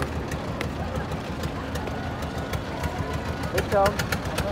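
A passenger trawler's engine chugs steadily with a low rhythmic knock on a river, heard under people talking nearby.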